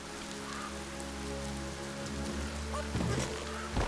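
Rain falls steadily in the video game Biomutant, a constant hiss of drops layered over a low droning game soundtrack, with a few brief louder splashes near the end.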